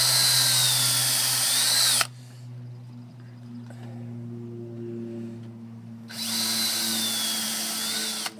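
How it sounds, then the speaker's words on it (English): A power drill pre-drills a nail board made of wood, whining loudly for about two seconds, pausing, then running again near the end, with a steady hum beneath throughout. "So you're just going to pre-drill that."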